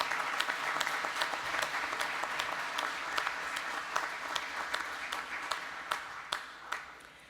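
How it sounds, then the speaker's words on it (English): Audience applause fills a school hall of fame induction ceremony, a steady wash of many hands that thins toward the end, leaving a few louder individual claps standing out. "Let's please give them a rousing applause."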